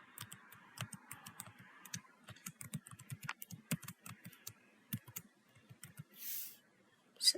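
Light, rapid clicks of a computer keyboard as a password is typed, the irregular keystrokes soft and close in a quiet room, ending with a brief rustle.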